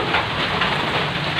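Rain pours down outdoors at a rural home, a loud, dense, steady hiss of drops close by with no voices.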